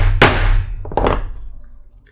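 A hammer strikes a setter over a flat stud, setting it like a rivet on a leather knife sheath: one sharp near blow followed by a couple of lighter taps, in a quiet workshop.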